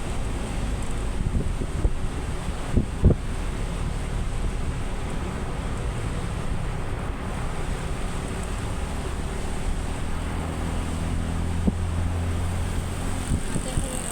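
Rough monsoon sea at Aare Ware beach, a steady roar of surf and strong wind buffeting the microphone, continuous and loud with occasional thumps and faint talk.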